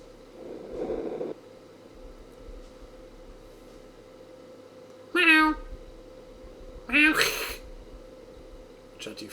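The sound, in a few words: cat meowing in the room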